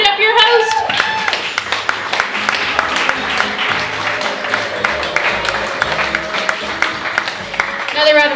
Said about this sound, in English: Another round of applause for Zoe Rogers, everybody.